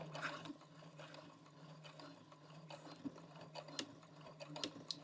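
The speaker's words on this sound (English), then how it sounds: "I'm going to sew very slowly over those pins." A sewing machine stitches slowly at basting length over pins in quilt fabric, giving a faint, steady mechanical hum with small irregular ticks and clicks as it runs.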